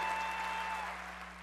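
Steady, dense applause fills a large hall at the Oscars ceremony, a continuous wash of many hands clapping at moderate distance, with a faint tone running underneath.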